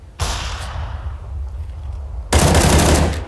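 Counter-Strike gunfire spraying in two dense bursts of rapid automatic shots, loud and close, the first fading into a tail before a second heavier burst hits.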